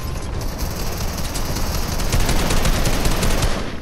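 Dense, rapid Fortnite gunfire crackles continuously throughout, loud and close, with overlapping bursts building slightly in intensity toward the end.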